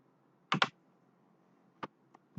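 Keystrokes on a computer keyboard: a quick double tap followed by a couple of sparse, separate presses, close and crisp in a quiet room.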